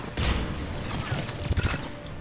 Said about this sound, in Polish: ktoś do mnie strzela.